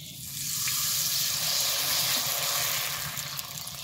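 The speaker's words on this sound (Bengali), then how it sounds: "এইভাবে সব পাঁপড়টা ভেজে নেব।" Rice flour papad frying in hot oil, a steady loud hiss and sizzle that swells quickly at the start and holds with faint crackles, close up.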